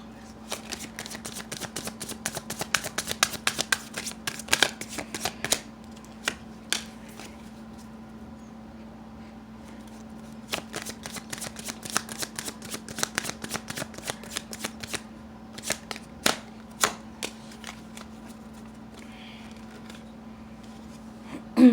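Tarot deck being shuffled by hand, bursts of crisp riffling and card slaps in quick flurries separated by short pauses, close and alone over a faint steady hum.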